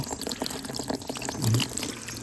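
Very cold, clear water runs from a hose fitted to a cemented outlet where people wash clothes and fetch water, making a faint, close trickle and splash.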